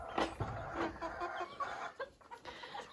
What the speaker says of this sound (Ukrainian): І наша квочечка другий день сидить.